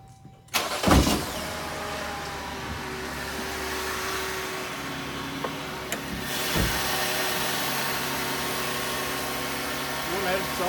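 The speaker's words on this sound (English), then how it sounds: "I'm going to go ahead and fire up the engine." A 2018 Jeep Grand Cherokee Limited 4X4 with a 3.6-liter V6 cranks and fires up, then settles into a steady, smooth idle heard up close for several seconds.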